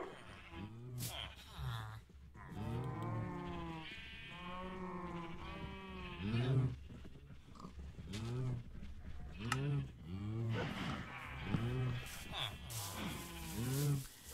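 Minecraft farm animals, repeated sheep-like bleats in a rhythmic series of wavering calls, fairly close and moderately loud across the stretch, with no talking over them.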